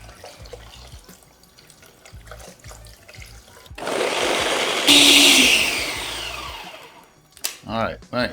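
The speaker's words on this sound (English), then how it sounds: "Now I add in 2 cups of hot water." Hot water is poured into a blender holding coconut and coconut water, a broad rushing splash building over several seconds then tapering off, with talk before and after.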